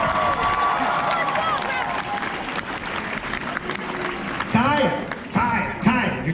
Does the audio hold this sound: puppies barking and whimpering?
no